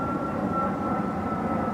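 Airplane passing overhead, a steady broad rumbling roar with a faint high tone, continuous and moderately loud throughout.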